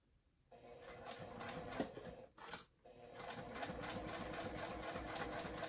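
A sewing machine back stitches through thick fabric with the presser foot pressure lowered. A close, steady mechanical whir runs for several seconds, breaks off briefly, then resumes and holds to the end.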